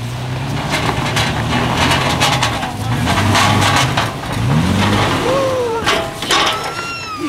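A truck engine revs up and down several times on a rock crawling course, loud and nearby, with a rough mid-range growl and some faint background noise.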